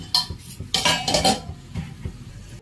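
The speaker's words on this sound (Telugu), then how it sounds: "మూత పెట్టుకుంటాం" Metal clatters and scrapes of a lid being set onto a pot of cooking mutton liver fry, several sharp clinks in quick succession, close and fairly loud.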